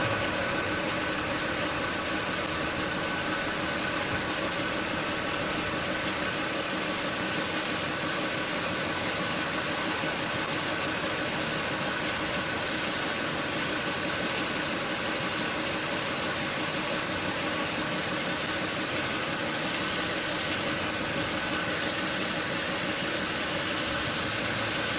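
A wood lathe turning a carrot wood vessel spins slowly while finish is applied, giving a steady, dense motor hum and whir that runs unbroken throughout with no talking.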